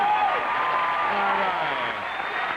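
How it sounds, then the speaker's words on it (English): A comedy club audience at a 1986 stand-up special keeps applauding for the comedians, a steady wash of crowd clapping heard under the host's talking, with a faint tonal hum running through. "let's keep the applause going for the other guys"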